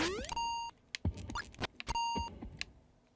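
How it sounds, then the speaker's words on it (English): Electronic beeps from Super Mario Maker 2 gameplay, two bursts of a sustained tone mixed with quick chirps, jumps and other game effects in an irregular sequence. "Why is that beeping like that?"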